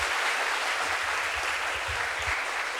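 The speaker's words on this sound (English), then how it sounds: "Can you please clap hands for yourself?" An audience at an investment panel discussion applauds themselves, a dense, continuous roar of clapping from many hands that stays loud and even throughout.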